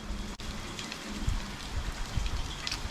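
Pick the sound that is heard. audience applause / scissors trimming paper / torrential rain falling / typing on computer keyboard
torrential rain falling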